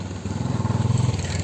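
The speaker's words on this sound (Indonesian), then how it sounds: "itu suara motor beberebetan sekali baraya ya di sini" A small motorcycle engine putters and revs close by, with a steady rapid pulsing chug lasting throughout.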